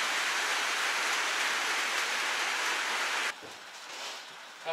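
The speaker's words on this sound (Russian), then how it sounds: "О, пустился сильнее дождь." Heavy rain pours down on a pig farm in a dense, steady hiss, then abruptly drops to a softer patter near the end.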